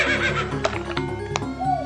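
A thin horse neighing in an animated Indonesian folk tale, a loud whinny with hoof-like clicks and ticks mixed in, close and alone.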